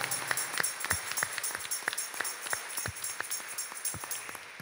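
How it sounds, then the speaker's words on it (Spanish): Applause in church for Our Lady of Mount Carmel at a Saturday Mass at St. Rita's in Brooklyn, a modest, fairly quiet scattering of claps with distinct individual hand strikes over a roomy background. "Un aplauso fuerte a Nuestra Virgen del Carmen"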